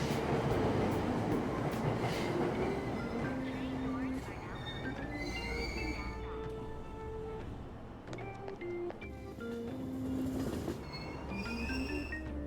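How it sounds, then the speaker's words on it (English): Subway train doors closing and the train departing at a station in Persona 5 Royal, with a chime, a rumbling roll and rising wheel squeals and tones, heard steadily throughout. "Train doors are now closing."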